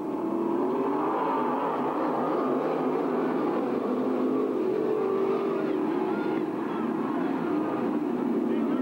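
Modified race cars roar around a short oval track at the Modified Nationals in Elma, a dense continuous engine drone with shifting revs, heard at a distance with crowd noise and a voice mixed underneath.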